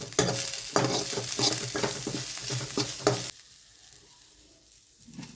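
Crushed drumstick leaves tossed into a hot pan and stirred, loud close sizzling with rhythmic scraping strokes of a spoon for several seconds, then the frying drops away to a faint quiet hiss.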